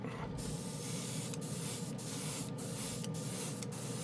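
A Grex airbrush mists Green Stuff World Cosmic Silver acrylic paint in a steady, continuous hiss. Brief dips in the spray come at roughly regular intervals.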